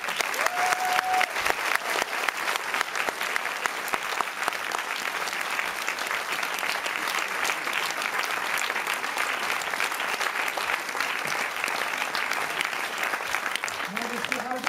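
A film festival audience gives Donald Sutherland sustained, dense applause at a masterclass, the clapping even and loud from start to finish.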